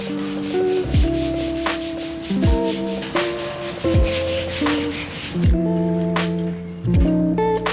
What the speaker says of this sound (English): we're gonna dry brush a little bit